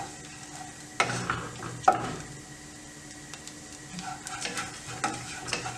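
Dry fruits frying in ghee for sugar-free dry fruit laddoos, with a soft steady sizzle and a few sharp scraping stirs of a spoon against the pan, close and fairly quiet, no talking.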